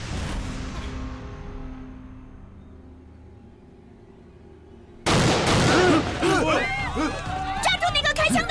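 A sudden loud gunshot bursts out of a quiet, fading passage in a kung fu action film set among Japanese soldiers. Shouting and commotion follow the shot.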